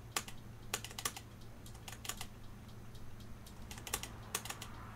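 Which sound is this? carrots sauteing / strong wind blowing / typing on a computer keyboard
typing on a computer keyboard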